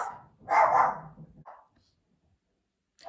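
A dog barks a few times from a distance, a short burst of sharp barks followed by one more, then quiet before a faint sound returns at the end.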